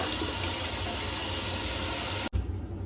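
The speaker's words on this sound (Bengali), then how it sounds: "এরপর মুখটাকে ভালো করে ধুয়ে নেব" Running water splashes steadily as a face is washed at a tap, a continuous broadband rush that cuts off abruptly near the end, leaving a quieter room tone.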